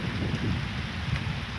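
Steady heavy rain pouring down in a garden, a dense continuous patter and hiss with a low rumble underneath.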